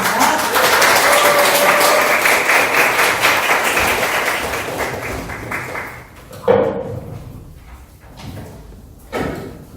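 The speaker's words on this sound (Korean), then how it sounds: "큰 박수로 모시겠습니다" An audience at a Korean policy seminar applauds to welcome a researcher, loud dense clapping that fades out over several seconds, followed by a few knocks and shuffling sounds.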